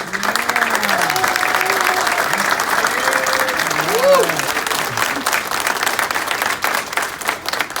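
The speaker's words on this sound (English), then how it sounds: "let's have one final round of applause for America's newest citizens" Applause for America's newest citizens at a naturalization ceremony, a broad crowd clapping at full level throughout, with voices and some tonal sounds mixed in over the clapping.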